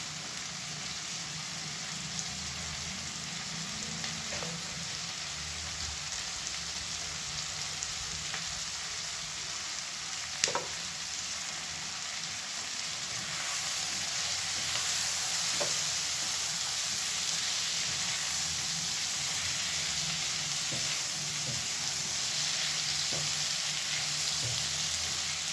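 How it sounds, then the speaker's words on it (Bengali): Mashed bottle gourd peel mixture frying in a pan for a vegetable bhorta, a steady sizzle with occasional stirring clicks, close and continuous throughout with no talk. "সব কিছু একসঙ্গে মিশিয়ে আবার একটুখানি ভেজে নেব।"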